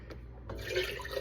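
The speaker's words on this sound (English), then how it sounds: "I'm putting 2 cups of spring water in my starter" Spring water pouring into a sourdough starter, a soft splash that starts abruptly after a quiet moment and runs as a steady, close liquid stream with gurgling for about a second.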